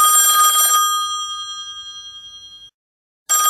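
A telephone in The Sims 2 video game rings loudly with a bright electronic bell tone, ringing once and fading out before a second ring starts.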